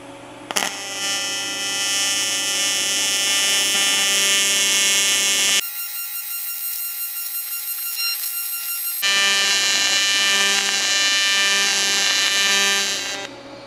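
TIG welding a dirty cast aluminum V-band for a water-to-air intercooler, a loud steady electric buzz with a bright crackling hiss that stops abruptly for a few seconds, then resumes until the arc cuts off.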